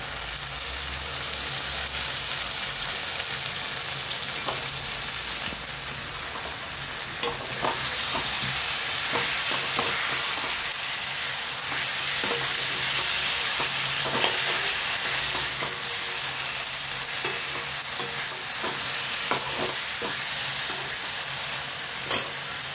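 Potatoes stirred into a jackfruit curry in a pan, with a long run of steady frying sizzle under repeated scraping and clattering strokes of a spoon, including a few sharp knocks against the pan.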